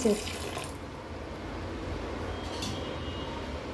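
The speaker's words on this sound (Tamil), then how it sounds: "இப்போ இந்த பருப்பு கூட கொஞ்சமாக தண்ணி" Water poured onto soaked split peas in a pressure cooker, a steady rushing pour that runs continuously and close, with a faint voice briefly at the start.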